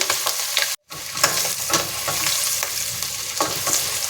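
Chana dal frying in a pan with a steady sizzle, stirred in scraping strokes; a brief silent gap breaks it early on.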